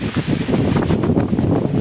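Strong wind buffets the microphone with a steady, loud, roaring rumble outdoors on a farm, continuous with gusty swells and no voices.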